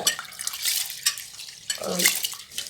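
Ration parboiled rice rubbed and washed by hand in water for idli batter, with close splashing, sloshing and dripping in uneven bursts and a brief gurgle near the end.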